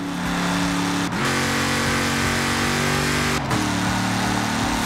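Fast car in Forza Horizon 4, a loud steady engine drone with revs climbing through the gears and two sharp shift dips, close and continuous with no talking.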